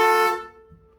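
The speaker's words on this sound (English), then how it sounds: "Let's test the horn." A single short honk from a 1966 Ford Mustang horn sounds close and bright, then cuts off and leaves a faint tail of quiet.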